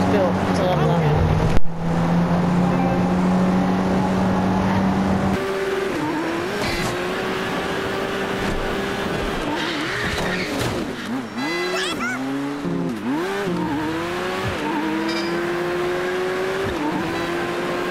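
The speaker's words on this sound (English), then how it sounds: "I just drove the car" A car drives in a video game, its engine revving up and down in repeated sweeping pitch climbs with a brief tire-skid screech, loud and close, while a voice talks over it.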